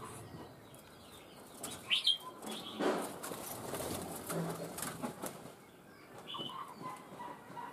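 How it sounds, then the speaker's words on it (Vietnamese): Myna birds in a breeding setup give scattered faint chirps and short calls, with soft bursts of wing flapping over quiet background noise. "Chim sáo. Nhiều lắm anh em ạ."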